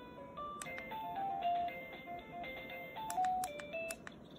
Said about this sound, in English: And this is the ringtone.